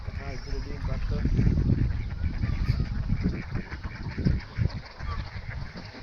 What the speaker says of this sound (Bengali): সকালবেলায় হাঁস গোসল দিচ্ছে।